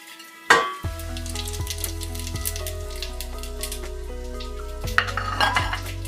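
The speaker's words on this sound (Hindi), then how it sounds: "तो अब हम इसमें अपने खड़े मसाले डालेंगे" Whole spices drop into heated oil and burst into a loud sizzle, then a steady frying hiss follows with occasional metal clinks of a pan and spoon being stirred.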